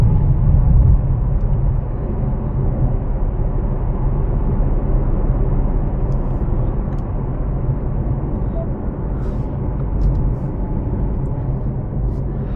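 A stock 2024 Ford Mustang Dark Horse with a six-speed manual drones steadily while driving, a loud continuous low rumble that holds fairly even throughout with only slight swells.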